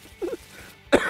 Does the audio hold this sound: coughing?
yes